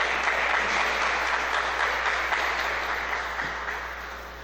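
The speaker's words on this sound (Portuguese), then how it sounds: "é uma linda salva de palmas, Senhor" Steady applause from a church congregation, a dense even wash of clapping that holds throughout and slowly tapers toward the end.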